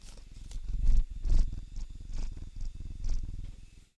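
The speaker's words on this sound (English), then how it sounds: "listen to him purring" A pet cat purrs loudly and closely after being picked up, a rough rhythmic rumble pulsing in repeated breaths, with no talk over it.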